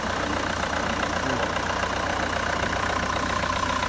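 A 2006 Opel Astra H 1.7 diesel engine idles steadily up close, a constant rough rumble with a light rhythmic clatter and no other sounds.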